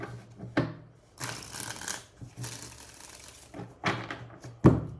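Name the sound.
shuffling tarot cards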